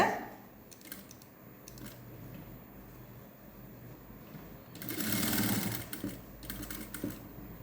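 A sewing machine stitches piping along the edge of a patchwork blouse worked with woollen thread. Short intermittent bursts of whirring give way to a louder, sustained run near the end, heard close with no voices.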